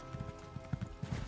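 A horse's hooves clip-clop in a steady galloping rhythm while being ridden in the video game Elder Scrolls Online, fairly quiet over a faint tonal background.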